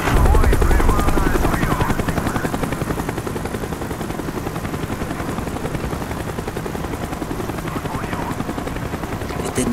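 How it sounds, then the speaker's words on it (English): A helicopter in the video game Call of Duty: Black Ops, its rotor chopping in a steady rapid pulse, loud and close at first and then settling into a constant drone amid game ambience, with no voices. "The chopper is coming around again."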